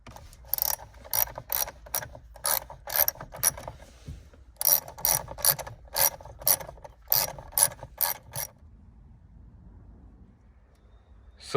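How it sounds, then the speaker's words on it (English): Quarter-inch ratchet with an extension turning a T30 Torx bit on a Honda Civic airbag bolt, giving sharp, close clicking bursts in two rhythmic runs of strokes separated by a pause, then quiet. "I am using the small Torx, about T30, and 1/4 ratchet"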